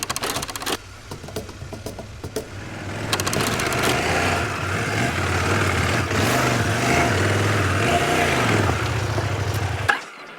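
An adventure motorcycle engine labors in first gear on a steep hill climb, a steady loud drone with rising and falling revs through most of the clip before cutting off near the end.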